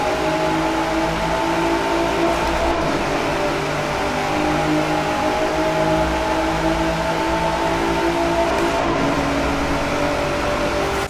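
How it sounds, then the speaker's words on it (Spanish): A Hennessey VelociRaptor 6x6, a tuned Ford Raptor pickup in Forza Horizon 4, holds a loud steady engine drone in fourth gear through a tunnel, rising slowly with no voices over it. "Vamos a 130, cuarta y túnel, escuchamos el coche."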